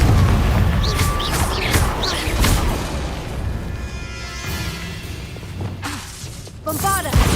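Fiery Confringo spell blasts in the Hogwarts Legacy video game, loud booming bursts at the start and again midway, with a rumbling tail and in-game voices shouting between them.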